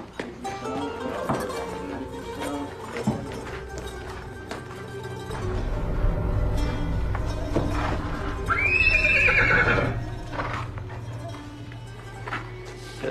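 Donkey braying in a village scene, a loud rising and falling cry in the middle, with hooves clip-clopping and background noise around it.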